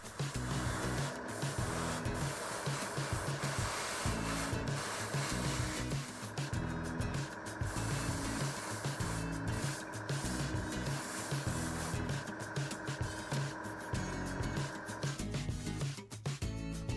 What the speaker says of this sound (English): I start by spraying the base color.